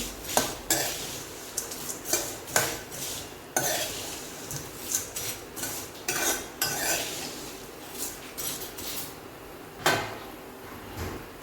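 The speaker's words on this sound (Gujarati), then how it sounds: "સારી રીતે ચમચાના મદદથી મિક્સ કરી લેશું" A spoon scrapes and clinks against a metal bowl in an uneven rhythm while a dry mango-seed mouth freshener mix is stirred, close by and moderately loud.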